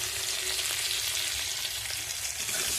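Potatoes frying in oil with salt and turmeric, a loud, dense, unbroken hiss of sizzling heard up close and alone.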